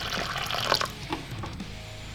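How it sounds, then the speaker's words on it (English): Water pours briefly into the water bowl in the new enclosure of a Pink Foot Goliath tarantula (Theraphosa), giving a short, close splashing trickle that fades after about two seconds. "fill that water bowl."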